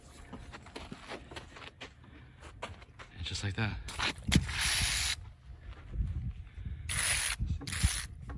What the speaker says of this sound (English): go ahead and turn the valve. You'll hear it self-pressurize.